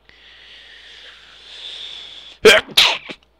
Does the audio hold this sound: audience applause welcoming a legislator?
no